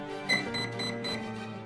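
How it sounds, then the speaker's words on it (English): RC boat electronic speed controller switching on, giving a short series of three high electronic startup beeps over a steady background hum, close and clear. "Let's turn the ESC on."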